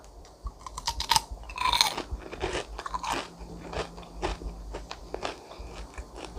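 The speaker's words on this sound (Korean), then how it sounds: "세팅하느라고 시간이 좀 지나서 좀덜 바삭할 줄 알았는데 아직까지 이렇게 바삭합니다" Crunchy fried chicken skin being bitten and chewed close to the microphone, with loud crisp crackling crunches in an uneven rhythm, and no talking.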